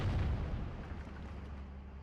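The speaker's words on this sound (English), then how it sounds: "IG-33 is going to take the shot" IG-33 infantry gun firing in Steel Division: Normandy 44, a single heavy boom at the start that rolls into a long low rumbling decay, loud and close.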